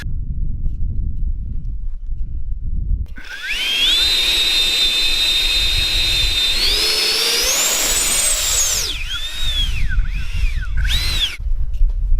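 Several electric motors on a homemade SpaceX-style electric rocket spin up together into a loud, steady rising whine that climbs in pitch, then wavers through a few quick up-and-down revs before cutting out, heard near and alone.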